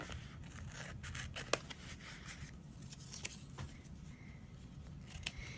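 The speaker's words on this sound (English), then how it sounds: "And I'm just going to cut off these edges." Scissors snip off the paper edges of an art journal page, giving quiet, irregular cutting crunches close up at low volume.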